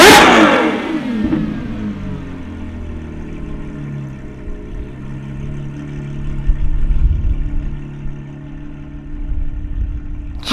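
A Novitec-tuned Ferrari 812 GTS naturally aspirated V12 engine fires up with a sharp bark, then settles into a deep, rumbling idle with a few swelling revs, loud and close.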